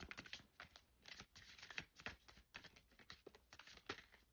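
Quiet, rapid riffling of cards being shuffled, a run of soft flicking bursts at close range, with no talking.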